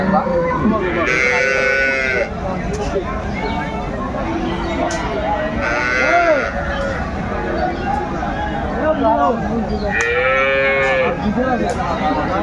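Dairy cows and calves low loudly at a crowded cattle market in Aftabganj, Dinajpur, three long drawn-out moos spaced a few seconds apart over a steady background of crowd babble and talking.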